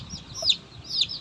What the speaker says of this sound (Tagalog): Puno po ito ngayon ng sisiw kasi nagsabay-sabay silang napisa.